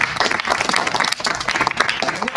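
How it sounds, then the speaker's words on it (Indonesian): An audience claps for a student named Excel, a brief, close burst of dense applause from a group, with some voices mixed in. "Tepuk tangan untuk Excel."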